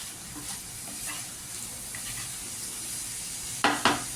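A prawn and egg curry with onions is stirred in a pan over low heat, giving a soft sizzle and steady hiss with faint scraping, then two brief, sharper clinks of a spoon against the pan near the end.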